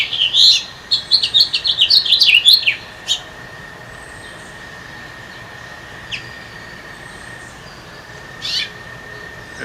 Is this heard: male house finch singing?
yes